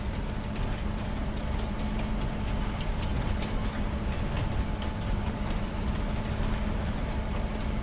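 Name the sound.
train passing in the video game Farming Simulator 25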